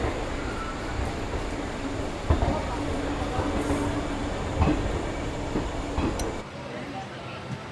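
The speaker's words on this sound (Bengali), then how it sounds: "তা ট্রেন কিন্তু ছেড়ে দিল একদম ঠিক সঠিক সময়ে।" A train pulling out of Shalimar station on a journey to Puri, with steady low rumble and rolling rail noise, a few louder clanks and knocks, and people talking in the background.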